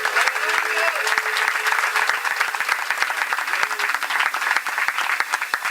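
Church congregation clapping for God during a sermon, dense sustained applause from many hands close by, with a voice calling out over it.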